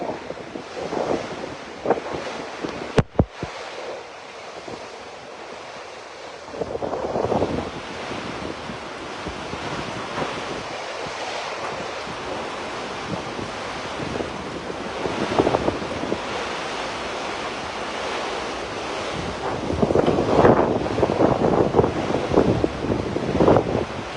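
Typhoon Kristine's strong gusting wind buffets the microphone over rushing, surging floodwater waves, a loud continuous roar that swells in intensity toward the end, with one sharp knock near the start.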